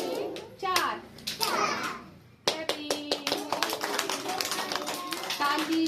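Children clap their hands in a quick, regular run of sharp claps at a rhythm-song's pace, joined by children's singing voices; the claps begin after a brief sung phrase and carry on loudly to the end.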